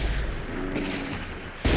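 Desert Eagle magnum fires in Fallout 4's VATS targeting mode, a loud, close game gunshot with a booming tail, followed by the sharp onset of another shot at the very end.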